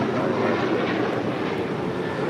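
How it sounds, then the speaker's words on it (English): Korean Air A380 Super jumbo airliner on short final to runway 4 left at LAX, a steady, loud broadband jet roar filling the whole stretch without letup. "Also have the Korean Air A380 Super, now short final."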